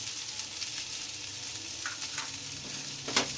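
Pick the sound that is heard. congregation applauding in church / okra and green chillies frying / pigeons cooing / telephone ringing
okra and green chillies frying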